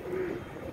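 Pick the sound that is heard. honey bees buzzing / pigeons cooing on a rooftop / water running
pigeons cooing on a rooftop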